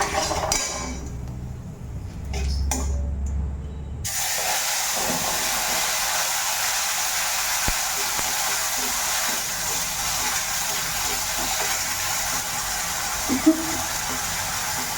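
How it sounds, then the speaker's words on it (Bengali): Soybeans frying with spices in a pan for Bengali soybean kasha, a steady loud sizzle and hiss that starts abruptly and carries on continuously, with a few faint clinks of a utensil and someone speaking. "তো এদিকে সয়াবিন কষানো আমি শুরু করে দিয়েছি"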